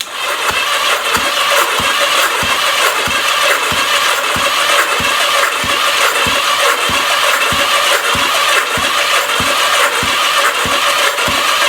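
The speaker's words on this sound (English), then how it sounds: "It's turning over slow." A 1983 Yamaha XJ900 Seca motorcycle engine cranks slowly on the starter after six years unused, a loud, steady, even rhythmic chug repeating about twice a second without catching.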